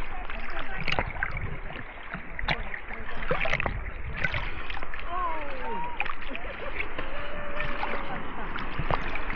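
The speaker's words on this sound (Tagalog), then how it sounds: "Grabe taas ng alon" Large ocean waves roll and crash at a surf beach in New Zealand, a steady loud wash of surf with splashes throughout, while people talk and exclaim close by.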